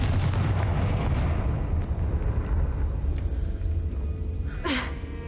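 A Confringo fire spell explodes in the video game Hogwarts Legacy inside a cave. A loud, dense blast rumbles and crackles throughout, followed by a short rising whoosh near the end, with no talking.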